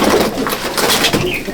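Andhra and Malwai pigeons in a loft at Subhasgram give a short, close burst of throaty cooing, soft rolling calls with no voices over them.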